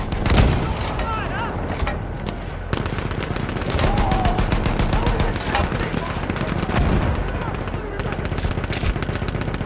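Machine guns rattle continuously in a Battlefield 1 match, a dense, loud stream of rapid shots layered with other gunfire and distant booms, while voices call out over the battle.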